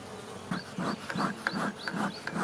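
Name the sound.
honeybees in an open hive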